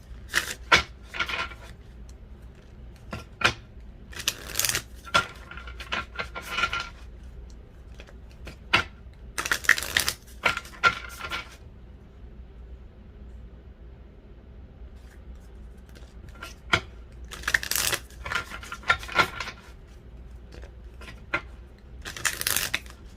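A deck of tarot cards is shuffled in intermittent bursts of crisp riffling and flapping, close and fairly quiet, with pauses of near silence between them.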